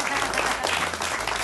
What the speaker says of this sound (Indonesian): Tepuk tangan untuk orang Batak.